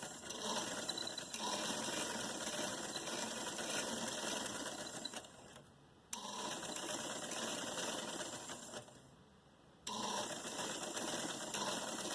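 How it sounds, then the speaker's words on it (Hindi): A sewing machine runs in steady fast bursts, stitching a designer short frock with red top thread and black bobbin thread, pausing briefly twice before resuming, close and loud with no talk. "इसके लिए मैं ऊपर जो है रेड धागा इस्तेमाल कर रही हूँ और नीचे मैंने बॉबिन में ब्लैक लगाया है"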